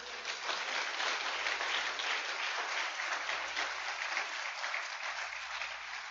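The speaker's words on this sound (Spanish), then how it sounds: "Dele un aplauso al Señor." A church congregation applauds steadily and loudly throughout, dense clapping holding an even level from start to finish.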